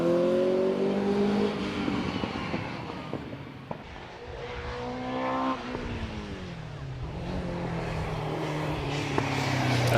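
A Peugeot-powered Tigger hillclimb car races at Prescott, its engine note rising and falling through gear changes as it passes, loud and continuous at mid distance, with a commentator's voice faintly underneath.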